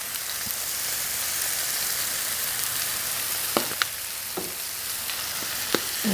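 Pork steaks and asparagus sizzle steadily on an FTG600 flat top grill, a constant close frying hiss with a few sharp clicks and taps of a utensil near the end.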